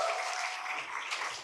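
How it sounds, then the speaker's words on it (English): Brief audience applause at an LGBTQ+ literary celebration at the Center for Fiction, a soft, fairly distant patter of many hands clapping for about a second and a half. "Let's give a round of applause."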